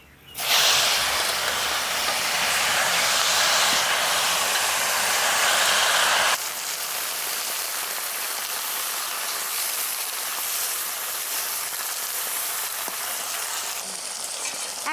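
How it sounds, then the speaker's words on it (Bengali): Helencha greens hit hot oil in a pan with a sudden loud, close sizzle that roars for several seconds, then settles abruptly into a quieter, steady frying hiss. "এবার আমি ঝালাংশ শাকগুলো এটা আমি দিয়ে দেবো এবার তেলের উপরে"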